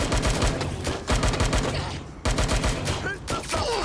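Rapid bursts of automatic gunfire in the video game Watch Dogs Legion, loud and close, coming in dense volleys with brief gaps, with shouting voices mixed in.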